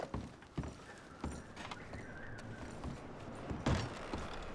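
Horses clip-clop at a walk in Red Dead Redemption 2, hooves thudding in uneven steps at moderate distance over a bed of ambient outdoor noise, with a louder clatter near the end.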